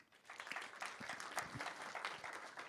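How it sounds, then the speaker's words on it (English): Faint clapping from a modest audience at a digital twin hackathon, a brief patter of hands that rises quickly and holds at low volume. "Applause for that."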